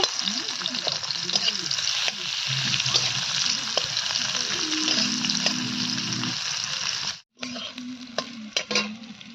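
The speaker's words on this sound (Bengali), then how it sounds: "কড়াইতে দেওয়া হয়ে গেছে পেঁয়াজ কুচি" Chopped onion fries in a hot wok with bay leaf and dried and green chillies, a loud continuous sizzle with stirring and a brief break near the end, no talk.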